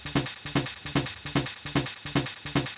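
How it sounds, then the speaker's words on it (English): A dense, busy Schranz techno percussion loop of layered hand drums and shakers, repeating in a steady, tight rhythm with a sharp accent on each beat. "make a simple but maybe quite busy drum pattern"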